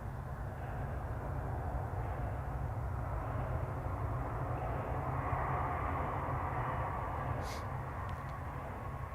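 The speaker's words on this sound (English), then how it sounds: "the planes are arriving on 36 left, 36 center, and then also some that are arriving on runway 27" FedEx cargo planes arriving at Memphis airport make a distant, continuous jet roar that swells and fades slightly, a steady broad rumble heard from afar with no talk.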